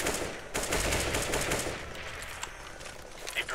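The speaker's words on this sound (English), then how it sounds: "Grenade out!" Video game shooter combat with a rapid burst of loud gunfire-like blasts and rattling explosion noise, dense and continuous for a few seconds with no talk.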